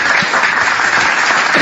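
Loud, dense applause from a crowd fills the whole short stretch, continuous and close, with no gaps.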